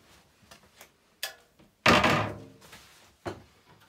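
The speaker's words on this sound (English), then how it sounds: "So you can just undo them, and then the case will just lift off." A gas boiler's front casing is unscrewed at the bottom and lifted off, giving a loud clattering thunk of metal panel near the middle, with a few lighter knocks and clicks before and after.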